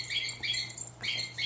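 A pet bird chirps in short, high, bright bursts, two main clusters of quick tweets close by in a quiet room, with no talking.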